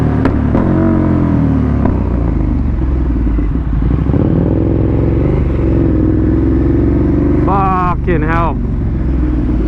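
A loud KTM Super Duke 1290 R motorcycle engine drones close up, rumbling steadily and rising in pitch, with a rider's voice over it and a quick rev burst near the end.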